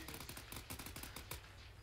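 Rapid automatic gunfire in the military game ArmA 3, a fast run of sharp, close bursts that overlap and continue without a break.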